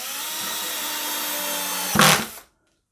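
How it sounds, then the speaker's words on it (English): A power drill drives screws through pipe flanges into salvaged wood for a rustic black-pipe bookcase, whirring steadily up close for about two seconds before a louder final burst and abrupt stop. "So it's just a process of screwing in the flanges at this point that have the pipes attached"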